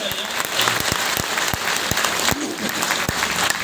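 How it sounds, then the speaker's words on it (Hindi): An audience claps for a presenter in a continuous wash of applause with a few louder, distinct claps standing out nearby and faint voices mixed in. "ब्रिज भाई के लिए तालियां होनी चाहिए, जोरदार"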